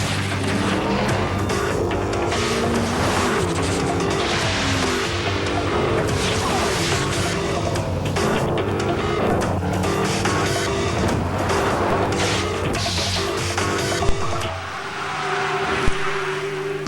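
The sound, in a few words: 300 horsepower Lexus GS car in a TV commercial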